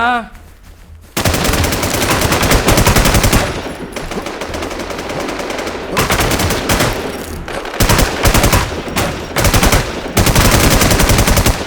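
Rapid automatic gunfire in the video game Infest, loud and close, sustained machine-gun bursts with brief gaps between volleys.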